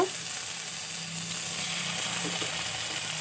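A coriander and cumin paste hits hot oil for a rohu fish curry and gives a close, continuous sizzle with steady frying hiss and light stirring clicks. No one speaks over it.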